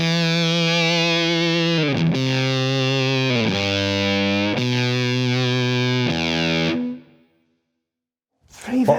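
Electric guitar through a fuzz pedal, a thick saturated sustained tone shifting between several held chords for about seven seconds before cutting off to silence, with a brief noise at the end.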